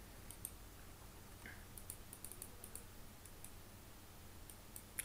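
Keys clatter on a Mac keyboard as code is typed into Terminal, a quiet run of close, irregular clicks and taps over faint background hiss.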